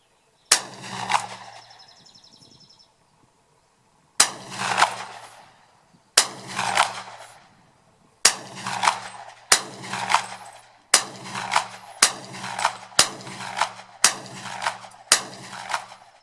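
Ten sharp rifle shots from a Hi-Point 4095 .40 pistol-caliber carbine fired outdoors, starting spaced apart and then coming in a steady, quicker rhythm, each crack loud and close with a brief ringing tail.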